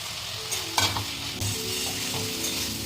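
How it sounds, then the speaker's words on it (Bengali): Potato and papaya chunks stir-fried in spiced oil for a papaya-potato curry, a steady close sizzle with scraping stirs, a sharper clatter near the start and a few softer spatula knocks. "চলো এবারে আলুটা পেঁপেটা দিয়ে আরেকটু কষিয়ে নেবো।"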